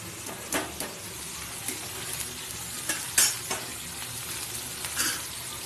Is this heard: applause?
no